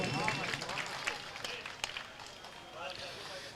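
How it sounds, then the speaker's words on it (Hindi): A crowd at a mushaira poetry gathering breaks into applause, a rough wash of clapping that thins out as it goes, with someone talking over it. "एक मरतबा तालियों से इस्तकबाल कर दीजिए।"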